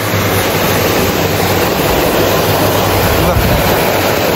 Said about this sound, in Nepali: यसरी पानी चाहिँ गइराखेको छ।